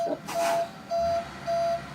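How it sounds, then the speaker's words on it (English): A car alarm sounds a repeating electronic beep, three evenly spaced steady tones over a quiet background. "My car alarm's going off."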